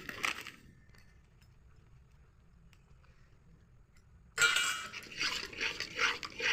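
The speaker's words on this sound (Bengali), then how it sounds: "কড়াইয়ে কিন্তু খুন্তিটা কিন্তু নাড়তেই হবে, নাহলে কিন্তু একবারে বসে যাবে।" A spatula stirs milk cooking with sugar and salt in a wok. Faint background hum gives way midway to a sudden burst of loud, busy scraping, clinking and sizzling that continues to the end, with no talk.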